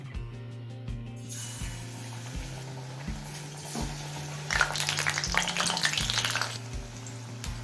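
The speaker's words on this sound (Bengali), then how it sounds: "এবার এই ফুলটা গরম তেলে দিয়ে দেবো" Batter-coated shapla (water lily) flowers drop into hot oil, bursting into a loud, bubbling sizzle midway, with background music running throughout.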